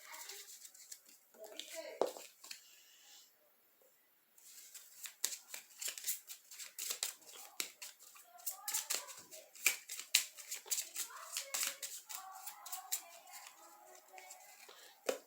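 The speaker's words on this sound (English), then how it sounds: "Give both of these decks a good cut." Trading cards for a Gladiator Beast versus Goblin card game are shuffled and cut, giving a dense run of quick papery riffles and flicks that start up near and keep going with short pauses, with speech mixed in at times.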